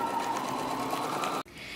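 A sewing machine stitches fabric for an infinity scarf, including a back stitch, producing a brief steady whir at moderate level that cuts off abruptly and then resumes faintly.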